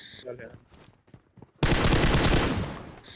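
Sustained loud burst of automatic gunfire in the mobile battle royale game PUBG Mobile, erupting suddenly after quieter game sounds and filling the rest of the moment.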